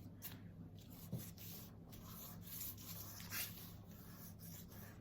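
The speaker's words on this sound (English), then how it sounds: "This yellow chalk pastel will get us pretty far with covering the background and the foreground surface." A yellow chalk pastel rubs across paper in a kids' arts and crafts project, making soft, faint, close scratchy strokes in an uneven rhythm with no talking.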